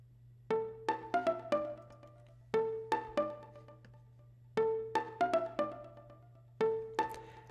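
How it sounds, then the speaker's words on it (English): A plucky violin synth plays the main melody of a remix, in short clusters of bright, detuned plucked notes separated by pauses, over a steady low hum. "which you'll recognize is this violin"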